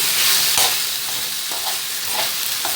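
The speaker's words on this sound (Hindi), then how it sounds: "मैं इनको अच्छी तरह से मिक्स करके प्लेट में निकाल लूँगी। अच्छी तरह से मिक्स कर लें।" Pizza sauce being stirred in a frying pan on a stove, a steady close sizzle and hiss with a few soft scraping strokes of a spoon, no voices.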